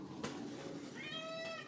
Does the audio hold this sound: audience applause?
no